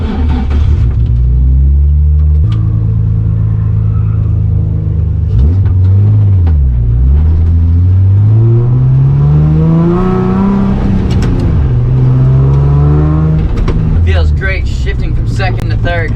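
Nissan 350Z engine rising and falling in loud, sustained revs through a drift, fitted with a short shifter, its pitch sweeping up and down with tire and wind noise.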